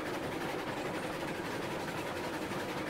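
A train running in the video game Railroads Online, a steady, dense rumble of rolling wheels and engine with no distinct clacks, constant and fairly close throughout.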